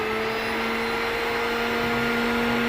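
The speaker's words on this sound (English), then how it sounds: "Basically turbocharge the vacuum system for the drip pads." A FLEX lane machine's vacuum system pulls hard through its buffer brush drip pads, a loud steady suction roar with a constant motor hum and no voices.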